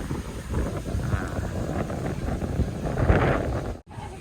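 Strong wind blowing across an outdoor golf course on the final day of an Asian Tour event in Phuket, a constant gusting rumble over the microphone with one brief dropout near the end.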